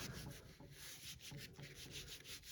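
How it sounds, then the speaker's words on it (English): Paper is rubbed by hand over an inked foam printing stamp in quick back-and-forth strokes, a close, soft, rhythmic scuffing that repeats steadily with no voices. "And rub, rub, rub, rub, rub."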